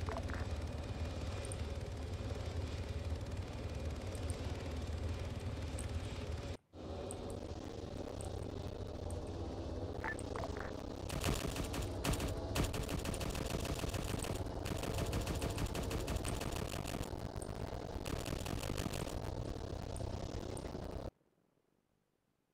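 A shredder cannon in the Arma 3 OPTRE video game fires long rattling bursts over a constant aircraft engine drone, with a brief break partway through and a sharp cut at the end.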